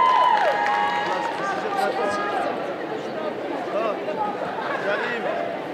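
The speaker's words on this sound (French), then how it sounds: "Allez, vous pouvez l'applaudir encore une fois." An audience at a cosplay conference during a Japan manga convention applauds and cheers for a cosplayer, a loud crowd of clapping and shouts with an amplified voice speaking over it.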